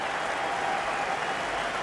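A cricket crowd applauds bowler Adam Dale at his home ground during an Australia v England one-day match, the steady dense clapping filling the whole stretch at moderate distance without a break.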